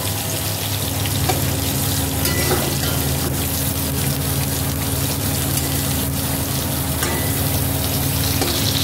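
Food frying on a low flame in a home kitchen, a continuous close sizzle over a steady low hum, with a few soft scrapes as pieces are flipped.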